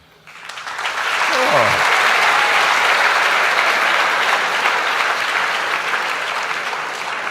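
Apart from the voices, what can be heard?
audience applauding a question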